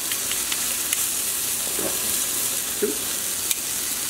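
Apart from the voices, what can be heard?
steak searing in a pan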